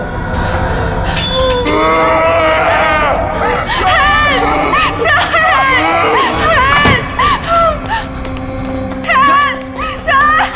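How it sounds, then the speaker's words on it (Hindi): A woman screams and shrieks in a tense horror drama scene, loud cries and anguished wails mixed with commotion, grunts and other voices. "चीख क्यों रही हो?"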